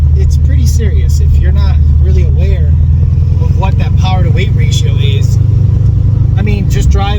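A Corvette ZR1 making about 600 rear-wheel horsepower in a 3,200-pound car, its engine droning loud and close as it accelerates, with voices talking over the steady roar.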